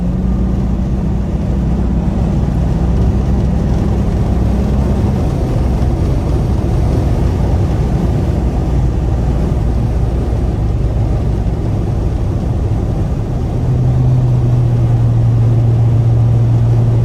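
A tuned 2006 Acura TL with a five-speed automatic accelerates hard in third gear, its engine droning steadily and loudly from inside the cabin, with the pitch rising and shifting near the end.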